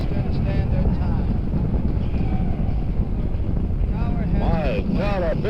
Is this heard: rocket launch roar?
yes